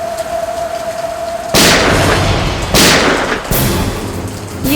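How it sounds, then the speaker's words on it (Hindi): Loud, sharp bangs of gunfire at night in heavy rain: three big blasts crash in over a steady rain wash, each followed by a rumbling decay, with a thin tone at the start. "ये कहीं गोली चली है।"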